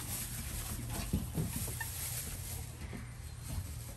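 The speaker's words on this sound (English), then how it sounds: "You're getting told off by a chicken." A chicken clucks and squawks in short irregular bursts over steady background noise, fairly faint and close by, with no one speaking.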